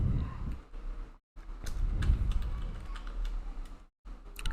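Rapid clicking of keys on a computer keyboard, typed in quick bursts with two brief pauses, close and fairly loud with no voices.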